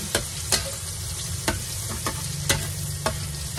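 Garlic fries in a pan for pancit, a constant bright sizzle punctuated by a regular series of sharp spatula scrapes and clacks, close and fairly loud.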